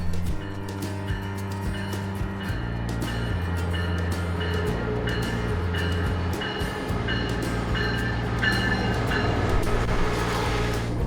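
A train rumbles through a foggy Amtrak station with steady low engine drone, tonal hums and clanking, sustained and fairly close throughout.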